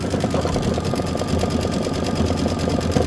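Embroidery machine stitching a decorative trim fill on a house design for a bench pillow, a steady rapid mechanical whirring and needle chatter that runs continuously and close by with no talk.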